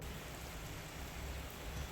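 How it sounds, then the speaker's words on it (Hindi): Heavy rain pours down steadily in Jaipur, a dense, even hiss with a low rumbling undertone, constant and close for the whole stretch with no voices. "आज तो जयपुर में झमाझम वाली बारिश हो रही है, सुबह से ही बहुत ज़्यादा बारिश हो रही है"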